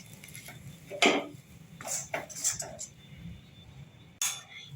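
Semolina dough is worked in a kadai off the heat with a metal utensil, giving a few scattered scrapes and clinks against the pan, quiet and close, separated by short pauses.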